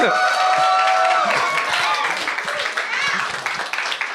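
Applause and clapping from a convention audience after a young man's efforts at beating a pony piñata, a dense wash of hand claps that continues steadily with some voices and cheers mixed in.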